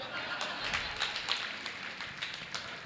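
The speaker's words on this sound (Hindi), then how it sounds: "अब सब ताली बजा रहे हैं आपको छोड़ करके" An audience claps together during a Jain religious discourse, a faint, dense patter of hands heard from a distance that holds steady for the whole moment.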